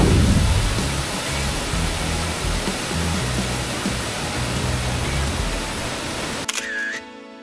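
Bulingan Falls waterfall roars as a steady, loud broadband rush close by, with low rumbling underneath, until it cuts off abruptly near the end.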